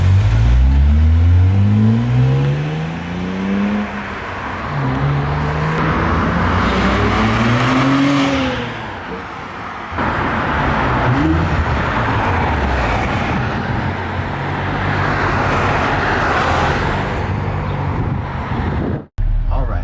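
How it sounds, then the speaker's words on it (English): A 2023 Nissan Z fitted with an HKS full dual-muffler cat-back exhaust pulls through the gears from inside the cabin, loud rising and falling engine pitch with repeated revving and shifts, dropping away abruptly at the end; a voice speaks over it. "in-camera or in-cabin footage of what the exhaust is like"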